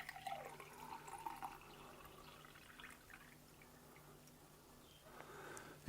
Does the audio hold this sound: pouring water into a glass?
yes